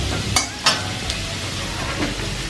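Garlic frying in hot oil in a pan, a steady close sizzle with a few sharp clicks of a utensil stirring against the pan.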